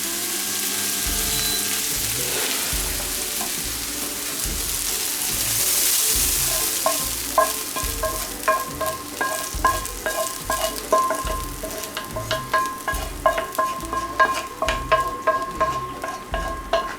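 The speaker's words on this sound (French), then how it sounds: "On va pouvoir incorporer nos oignons dans la viande" Onions are stirred into ground beef sizzling in a pan. A constant loud frying hiss runs throughout, and from midway a rhythmic series of spoon scrapes and stirring knocks repeats close up.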